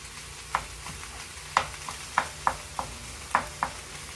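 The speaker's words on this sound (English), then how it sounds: "Butter in here, let it melt in." Butter melts and sizzles in a pan while cooking pork loin ribs and sautéed vegetables, with a soft frying hiss broken by several sharp taps and stirring clinks.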